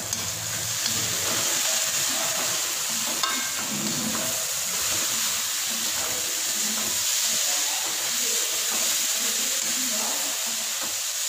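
Mixed vegetables for a quick veg biryani fry in a pan on a gas stove and are stirred, giving a steady, close broadband sizzle and hiss that runs throughout with no break.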